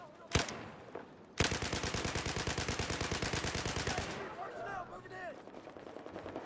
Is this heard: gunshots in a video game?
yes